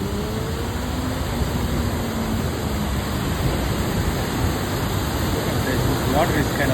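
Huron River near Ann Arbor, Michigan, rushing through a dam with all its shutters open, a steady broadband roar of foaming water, constant and loud with no breaks.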